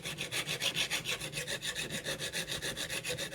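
A file rasps back and forth on a Ryobi lawnmower blade in steady rhythmic strokes, about six per second, close and continuous with no talking.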